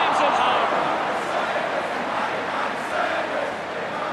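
Steady crowd roar and cheering at an Australian rules football match in AFL Evolution 2, Saints against West Coast Eagles, loud and continuous, fading slightly, under a commentator's voice.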